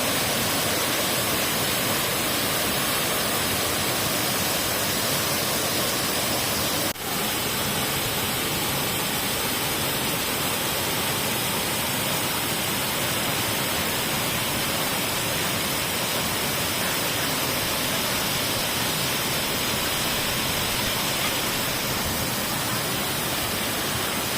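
Than Sawan waterfall in Phayao, Thailand, set in dry evergreen forest, roars as a steady, loud, dense rush of falling water that runs unbroken throughout with no voices.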